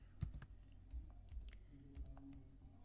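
Typing on a computer keyboard: quiet, scattered key clicks in an uneven rhythm, close up and soft, with no voice.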